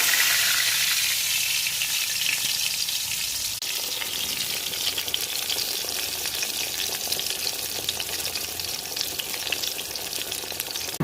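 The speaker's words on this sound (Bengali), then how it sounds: "এবারে বেগুন ভেজে নিচ্ছি" Brinjal (eggplant) slices fry in hot oil in a pan. The steady, loud sizzle continues for the whole stretch, and a stir or two is heard partway through. No one speaks.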